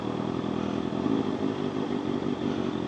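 A Honda CBR650F motorcycle is ridden in first gear with the clutch pulled in, its engine giving a steady, continuous drone at an even level throughout, close to the rider, with no talking.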